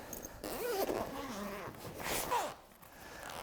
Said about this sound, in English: I like the sound of those zippers.